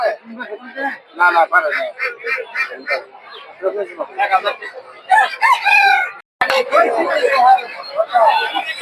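Native chickens at a busy poultry market, with roosters crowing and hens clucking among constant nearby chatter and trader talk.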